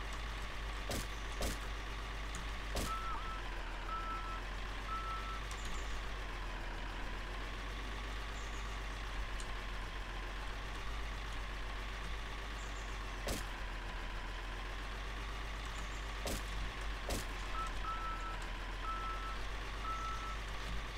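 An excavator in Baustellen Simulator 2016 drives with a steady, droning engine hum and a repeating reversing beep throughout, plus occasional sharp clicks, with no pauses.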